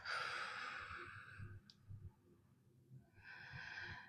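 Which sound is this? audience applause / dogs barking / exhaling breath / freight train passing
exhaling breath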